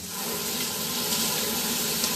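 A kitchen tap runs steadily into a sink as marinade-covered hands are washed under it, a close, even rush of water with no break.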